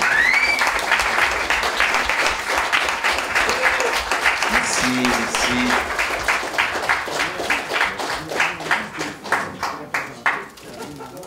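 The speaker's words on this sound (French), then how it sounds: "Une bonne main d'applaudissements pour ces deux pionnières." Audience applause for two pioneering women filmmakers at a documentary film festival on Isle-aux-Coudres, a steady wash of clapping that thins into scattered distinct claps toward the end, with brief talk over it.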